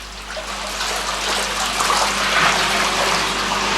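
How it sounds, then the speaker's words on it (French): Relaxing spa bubble bath like a thalassotherapy tub, a constant dense rush of bubbling, churning water with a low hum beneath, loud and unbroken from start to finish. "Ici, bain à bulles relaxant, comme en thalassothérapie."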